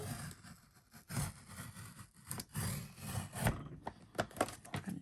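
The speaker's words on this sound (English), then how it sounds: "I don't know if my trimmer will cut all this, but we gonna try." Paper trimmer slicing through a thick stack of traveler's notebook pages, making repeated close rasping, rubbing strokes in an uneven rhythm with short pauses between passes.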